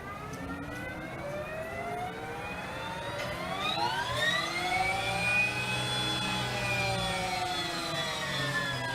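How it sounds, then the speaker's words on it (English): A Harley-Davidson LiveWire electric motorcycle starts and rides off, its motor giving a smooth, continuous electric whine that climbs in pitch and then holds steady, with no exhaust rumble. "that's the motorcycle"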